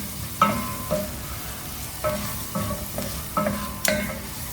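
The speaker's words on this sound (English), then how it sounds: "So we need to really cook the turmeric." Turmeric frying in a pot for vermicelli soup, with a spoon scraping and stirring in a handful of separate strokes over a soft, steady sizzle, heard close and alone.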